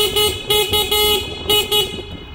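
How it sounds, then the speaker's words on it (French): A bright electronic horn on a LAOTIE ES19 all-terrain ride-on vehicle honks in several short bursts with brief gaps, close and fairly loud over a low background rumble. "Écoutez le klaxon de la pâtisserie."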